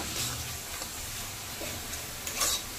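Spice masala with chilli powder is stirred in a pan for bhoger khichuri, producing a soft, continuous sizzle with faint scraping strokes, fairly quiet and close.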